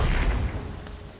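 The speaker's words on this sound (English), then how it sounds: "whenever his artillery fires, he kills more of his guys than I get of his" Cannon artillery fires in Napoleon: Total War during an online battle between France and Austria, a deep booming thud that rolls out and fades over about a second, with a faint crack near the end.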